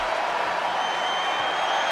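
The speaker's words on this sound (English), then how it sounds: "The sound of this crowd is deafening, and he's asking for more." A dense, steady roar of a large video game crowd cheering during a WWE 2K22 tag team match, broad and continuous without breaks, loud and unvarying throughout.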